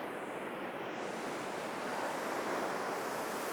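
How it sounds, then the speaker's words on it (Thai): Ocean waves wash up onto a beach in a steady, full roar of surf with some wind buffeting the microphone, with no voices. "คลื่นซัดขึ้นมาติดชายหาด"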